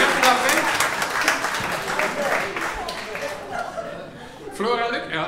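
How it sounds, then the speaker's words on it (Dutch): Audience applause and chuckling at an old-school stand-up comedy show in a Groenhof care home in 2022, a dense patter of clapping that rises and falls in waves, mixed with murmured chatter, with a brief swell near the end. "Een applaus."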